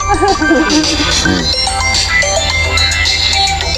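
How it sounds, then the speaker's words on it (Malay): A loud phone ringtone of warbling, chirpy whistles and trills like a squawking parrot, playing continuously with a voice briefly mixed in. "Oi, telefon dia bunyi macam burung kakak tua."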